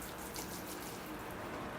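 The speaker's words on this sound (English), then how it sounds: "Here I go with the rinse now. Start from above and again rotate it around, getting all angles on the trees." Water sprays steadily over a Portulacaria afra bonsai forest in a pot, a continuous soft hiss and patter of rinsing with no talk.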